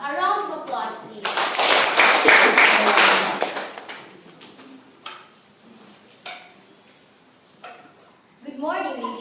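Crowd applause in a school debate hall for a Grade 9 debater being introduced, a dense burst of clapping lasting a few seconds before fading into scattered claps and a voice starting to speak.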